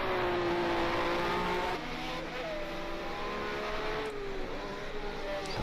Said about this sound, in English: So that engine's not sounding very great to me.